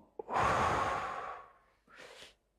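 One deep, audible breath is drawn in and let out slowly near the microphone, followed by a shorter, softer exhale. No one speaks.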